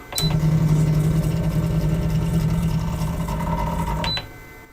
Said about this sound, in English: I'm going to wind it onto this spool here.